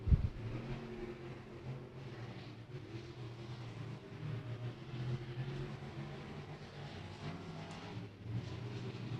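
Sport Mod race cars running hot laps on a slick speedway, heard as a faint continuous engine drone from a distance that rises and falls slightly, with no voices.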